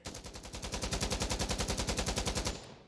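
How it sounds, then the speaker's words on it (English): Rifle magazine emptied in Insurgency: Sandstorm in one unbroken burst of rapid, evenly spaced automatic shots, loud and steady for about two and a half seconds before cutting off, with no voices. "let me go ahead and just dump this magazine"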